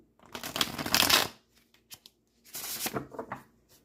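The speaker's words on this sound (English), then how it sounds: "Clearing the cards and washing the cards." Tarot cards are shuffled in two brisk riffling bursts, each about a second long, separated by a short pause with a few light taps, close and fairly quiet, with no voices.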